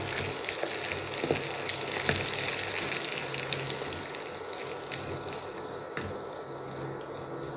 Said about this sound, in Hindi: और प्याज को थोड़ी देर हम फ्राई होने देंगे।